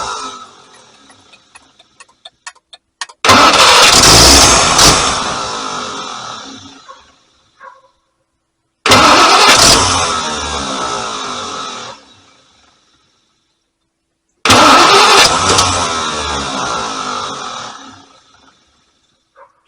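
A Packard 327 straight-eight with a newly fitted four-barrel carburetor cranks and catches in three loud bursts, each running a few seconds and dying away, separated by pauses with faint clicks.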